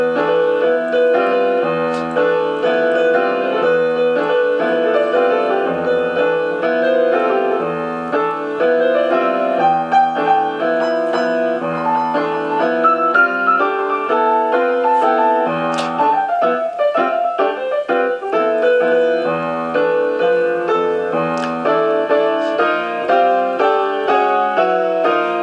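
Jazz piano in the Phrygian mode, dense dark chords with dire semitone clashes and repeated low notes, loud and continuous throughout with no talking.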